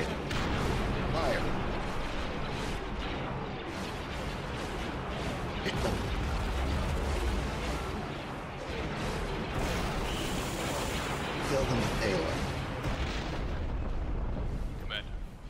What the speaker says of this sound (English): Broadside still firing.